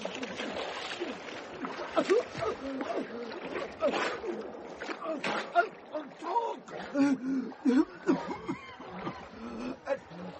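A splash as a person is thrown into water in a radio drama, with sharp watery bursts and churning under agitated voices throughout.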